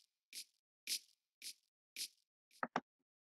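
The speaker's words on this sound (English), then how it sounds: "all it is just like a light clap" Light clap sample in an R&B beat, played solo: four quiet, evenly spaced claps, then a quick double hit at the end.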